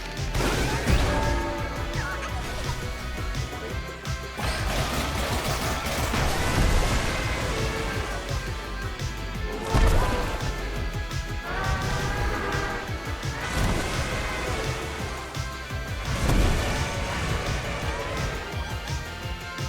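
Repeated smashing impacts and crashes from the Wako Tako boss fight in the Astro Bot video game, loud and dense over a constant busy backdrop of game music and effects.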